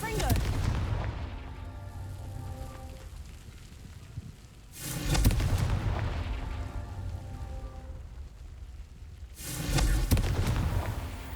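Confringo blasting-spell explosions in the video game Hogwarts Legacy; two heavy booms roughly five seconds apart, each followed by a long rumbling, crackling decay over a constant dense background.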